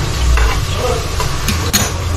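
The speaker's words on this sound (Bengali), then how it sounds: "ফ্রাইড রাইসের সবজিও ভাজা চলছে" Vegetables for fried rice sizzle loudly in a hot pan while being stirred, with a close, steady frying hiss and occasional scrapes and clinks of the utensil.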